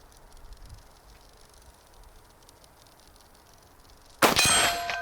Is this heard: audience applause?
no